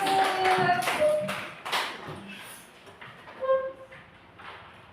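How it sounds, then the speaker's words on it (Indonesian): A burst of clapping from a small group of students in a classroom, loud at first then thinning out and fading over several seconds. "tepuk tangan buat kelompok jeruk"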